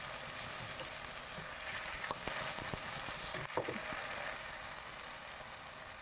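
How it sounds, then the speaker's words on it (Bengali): A paste of cumin, ginger, onion and garlic sautés in a pan for Bengali-style home chicken curry, a steady soft sizzle with occasional scraping stirs, close and uninterrupted by talk. "জিরে, আদা, পেঁয়াজ, রসুনটা পেস্টটা ভালো করে কষিয়ে নেব"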